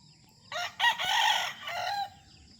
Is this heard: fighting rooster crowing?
yes